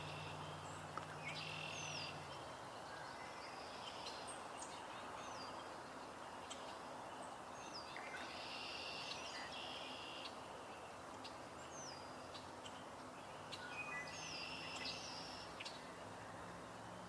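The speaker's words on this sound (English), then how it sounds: "Just heard what I believe is a swamp sparrow." Swamp sparrow singing outdoors, short high trilled song bursts repeating several times at a moderate distance, faint over a steady background hiss with no talking.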